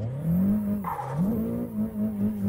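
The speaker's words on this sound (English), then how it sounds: "Standing on the brakes. I have no tires." A Nissan 180SX in Assetto Corsa brakes hard on worn-out tires, giving a loud, sustained squeal and scrubbing over a wavering engine note that dips and rises, with no voices.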